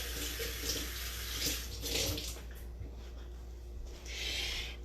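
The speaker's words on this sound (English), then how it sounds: "you're just going to run this guy under cool water" Cool water from a kitchen tap runs steadily over a boiled egg, a soft continuous splashing stream that is fairly quiet and heard alone.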